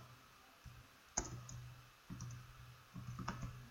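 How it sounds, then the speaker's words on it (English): Sparse, faint keystrokes on a computer keyboard come in small clusters of clicks with pauses between them, in a quiet room. "Let me type it here"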